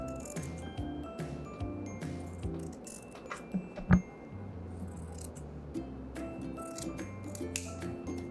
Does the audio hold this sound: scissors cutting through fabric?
yes